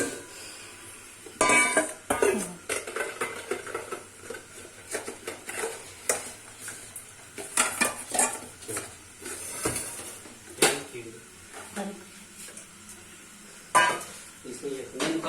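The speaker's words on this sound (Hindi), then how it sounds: "साथ में कुकर भी धो देते हैं और रख देंगे ताकि कुकर का भी काम खत्म हो जाए" Pots and a pressure cooker clatter and clink while being washed and set down in a home kitchen, with scattered metallic knocks and running handling noise under a voice talking.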